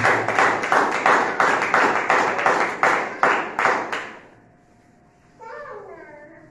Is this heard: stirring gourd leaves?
no